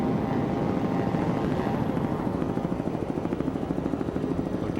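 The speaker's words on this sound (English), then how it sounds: "Looking back now, out of our Pro Vee helicopter, pilot Coit Bailey doing a great job helping" The Pro Vee camera helicopter flying over the 2006 OSS powerboat race at Destin, Florida, heard as a steady, loud rotor chop with engine drone, continuous throughout and without speech.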